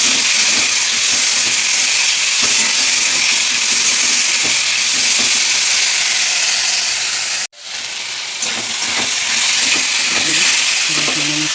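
Spices and potatoes sautéing in hot oil, turmeric and Kashmiri chilli among them, giving a loud steady hiss and sizzle close up that breaks off for a moment and then resumes.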